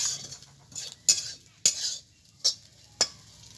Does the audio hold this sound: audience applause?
no